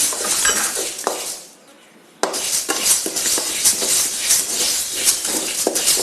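Moong dal is dry roasted in a pan while being stirred, making close, busy scraping and gritty rattling with metallic clinks, which pauses briefly before resuming just as loudly.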